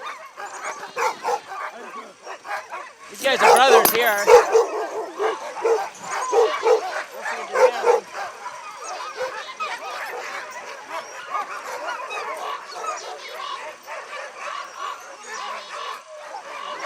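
Sled dogs barking, yipping and whimpering in an excited chorus, with a loud burst of barking partway through and someone talking over the noisy pack.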